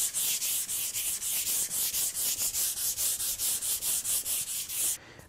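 Steady back-and-forth strokes of sandpaper rubbing wooden sample boards during finishing, a rhythmic rasping hiss repeated about four times a second, close by, ending abruptly.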